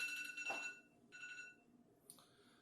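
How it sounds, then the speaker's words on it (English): A kitchen timer beeps faintly during rice cooking, sounding in three short electronic bursts of high, tonal ringing with quiet pauses between them and no talking. "hold on, my timer."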